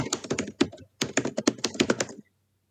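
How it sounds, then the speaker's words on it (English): Rapid clattering keystrokes on a computer keyboard, close and clear in quick bursts with a brief pause, then stopping into silence. "We can hear you typing."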